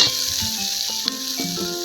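Tomatoes hit a hot pan while making a spicy banana leaf fish fry, giving a steady close sizzle and crackle of frying throughout, with a few stirring clatters and no voices.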